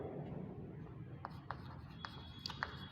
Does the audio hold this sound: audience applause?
no